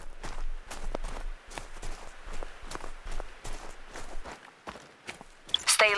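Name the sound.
footsteps in theHunter: Call of the Wild video game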